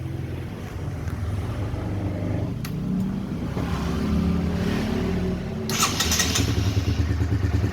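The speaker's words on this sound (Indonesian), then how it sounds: "Kita dengerin dulu suara mesinnya teman-teman." An old Honda CBR150 motorcycle engine cranks and catches on the first start, then settles into a steady, close idle with a few revs and brief rattling clicks.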